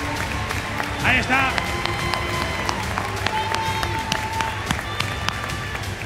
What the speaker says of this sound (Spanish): Un aplauso para Zelling, por favor.